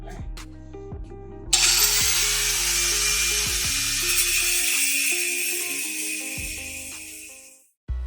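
A power tool whines into a high, continuous cut through a welded go-kart frame after some lower mechanical humming, then winds down and stops; close and loud, alone without speech.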